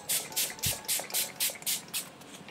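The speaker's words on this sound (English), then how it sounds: "I'm gonna go in with the glow fixing spray first" Glow fixing spray from a Revolution Pro makeup set, misted over the body in a quick series of about nine short, close, even hissing pump bursts, with no talking.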